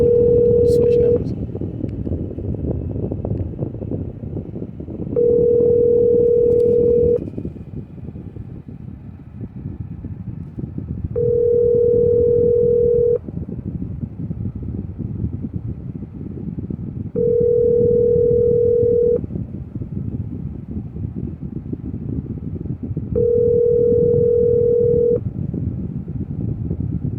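A telephone rings on a call to a new number: five evenly spaced ring tones, each about two seconds long, sound clearly over a constant low rumble of background noise.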